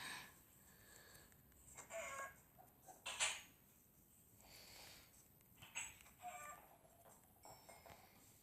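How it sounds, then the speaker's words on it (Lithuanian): Chickens in the Minecraft video game cluck in a few short, scattered bursts, faint and fairly distant over a quiet background, with no speech. "Dvi vištas."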